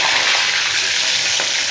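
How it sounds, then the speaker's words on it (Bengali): Tilapia fish fries to a deep crisp in hot oil, giving a loud, close, unbroken sizzle with faint stirring scrapes underneath. "আমি এবার একটু মাছটা অনেক কড়া ভাজা দিই"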